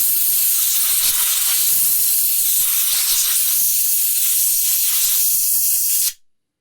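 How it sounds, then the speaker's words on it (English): Compressed air blasting dirt off an Echo PAS 2620 power head: a loud, continuous, close hiss holding steady for about six seconds, then cutting off abruptly. "We're going to hit this with a little bit of compressed air."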